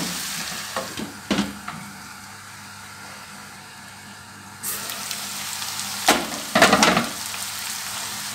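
Kofta and vegetables cook in a covered pan with a soft, steady sizzle, broken by a few sharp clinks and clatters of the lid or utensils.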